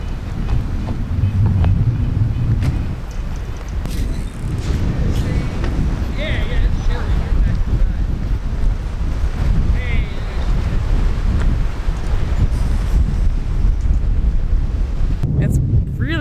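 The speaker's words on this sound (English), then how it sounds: "It's really windy and actually kind of chilly" Strong wind buffets the microphone in a constant low roar at an RV park in Glacier National Park, with gusty rumble throughout and a voice speaking briefly over it.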